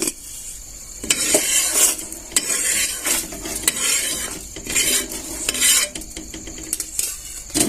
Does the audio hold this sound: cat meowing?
no